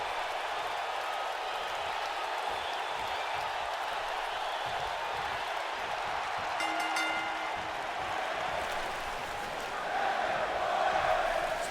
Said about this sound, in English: Crowd cheering for Bryan in the early stages